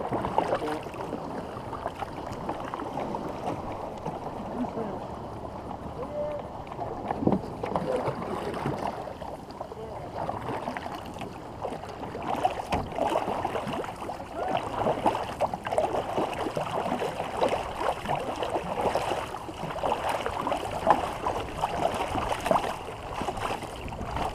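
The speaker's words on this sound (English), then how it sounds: "the more you can keep paddling straight ahead" A team war canoe being paddled on open water during practice, with steady splashing strokes and water wash continuing throughout, plus light wind noise across the microphone.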